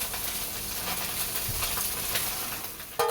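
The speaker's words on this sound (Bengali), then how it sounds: "এদিকে বসিয়েছি মাছ ভাজা" Fish frying in a pan, a continuous close, loud sizzle with crackling spatter throughout and a sharp clatter at the very end, with no talk.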